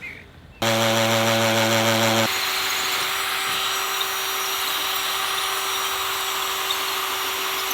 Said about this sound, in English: So that's how we drill through 7 inches of breeze block.